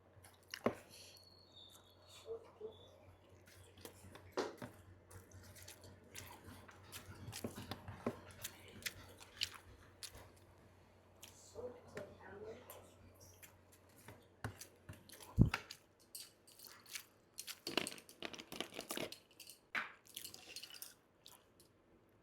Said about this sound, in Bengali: অনেক দিন বাদে শুটকি খাচ্ছি।